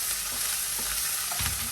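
Onion, garlic and broccoli frying in a pan for a soup, a steady close sizzle with scraping and clinks of a spoon stirring through.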